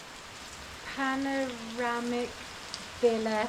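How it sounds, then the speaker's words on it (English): Light rain falls outside a villa in Sri Lanka, a soft, steady hiss running beneath a man's and a woman's conversation nearby. "it's raining a little bit outside now"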